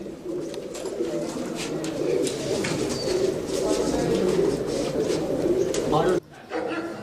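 Many pigeons coo together in a loft in a dense, continuous murmur, close and fairly loud, with someone speaking over them; it briefly drops out near the end.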